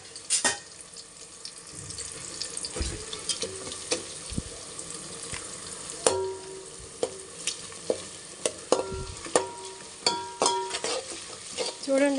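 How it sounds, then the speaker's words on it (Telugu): Chicken fry bagara rice with a bay leaf being stirred in a pan, repeated scraping and clinking strokes of a spoon over a low frying hiss, with brief bits of speech. "ఇప్పుడు ఒకసారి కలుపుదాం"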